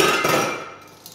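Metal spatula clanking against a pan while cooking lime garlic scallops, a bright ringing clink that fades over about a second, with no talking.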